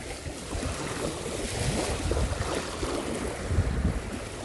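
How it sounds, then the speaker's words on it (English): Waves wash continuously onto the Lake Huron shore near shipwreck sites, a broad steady surge mixed with wind rumble on the microphone, with no one speaking. "Just the sound of the waves."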